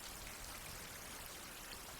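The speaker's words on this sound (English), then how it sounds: "I'm not sure if the rain will have too much impact on us" Steady rain falling outdoors in a wild survival setting, a continuous even hiss of drops pattering on surfaces, close and constant with no talk.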